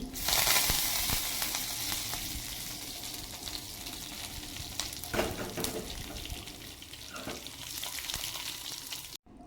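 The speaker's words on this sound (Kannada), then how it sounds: "ಅಷ್ಟೊತ್ತಿಗೆ ನಾನಿಲ್ಲಿ ಇದಕ್ಕೆ ಒಂದು ಒಗ್ಗರಣೆ ಕೂಡ ರೆಡಿ ಮಾಡ್ತಾ ಇದ್ದೇನೆ" Continuous sizzling of tempering spices in hot oil for a green gram and cucumber curry, close and fairly loud, with occasional clinks and stirring noises.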